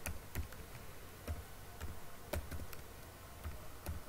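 Sparse clicks of keys being pressed on a computer keyboard while an Aadhaar number is entered, a few irregular taps spaced across a quiet, hissy room background.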